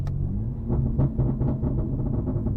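A 700 hp BMW G80 M3 Competition's exhaust crackles and pops off throttle in a rapid irregular series over a low engine rumble, close and fairly loud.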